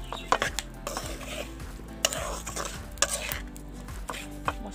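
A utensil works spices and oil together in a metal bowl with close, irregular clinks and scrapes, a busy rhythm of sharp taps over a soft low hum.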